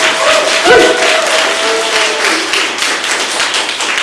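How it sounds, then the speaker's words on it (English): A room full of people applauds steadily and loudly for several seconds, with dense overlapping claps and a brief voice or tone cutting through early on. "So a big round of applause."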